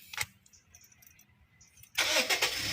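An automatic car's engine starts after a few quiet clicks and key jingles, catching abruptly into a loud, steady idle close by.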